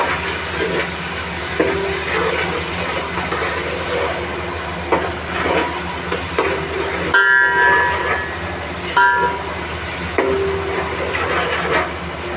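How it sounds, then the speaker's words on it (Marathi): Ginger-garlic paste sizzles in hot oil in a pan, a steady loud hiss with occasional metallic clinks and scrapes of stirring. "आपली आलं लसूणची पेस्ट आता चांगली परतलेली आहे करपायची पण नाही"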